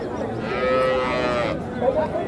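Cattle low at a busy livestock market in Sirajganj, one drawn-out moo rising over a steady crowd murmur before a shorter call near the end.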